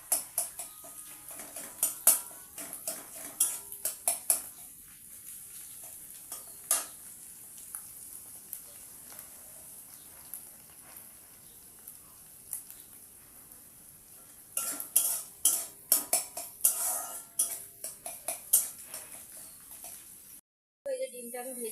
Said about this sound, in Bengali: এইভাবে আমি চিকেনটাকেও সুন্দর করে একটু লাল লাল করে ভেজে নেব।